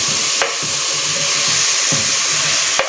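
Onion and tomato fry in a pan on a home stove, a steady loud sizzle and hiss with soft rhythmic scraping of a spoon stirring the pan and a couple of sharp clicks.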